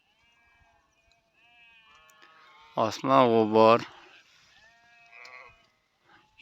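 A sheep in a flock grazing on mountain pasture gives one loud, close, wavering bleat, with quieter rustling and a brief voice before and after.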